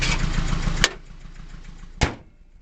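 A 1989 Mazda B2200 four-cylinder pickup with a 5-speed manual idles steadily nearby, a low even rumble broken by two short sharp knocks.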